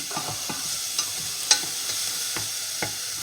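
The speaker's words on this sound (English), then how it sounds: "Just give it a stir and yeah, just let it soften up or brown" Food frying in a pan for a homegrown meal is stirred, with a spatula scraping and tapping at a fairly regular pace over a steady, close sizzle; no one speaks.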